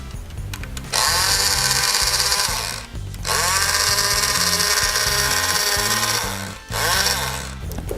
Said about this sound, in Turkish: Bu bir benzinli testere.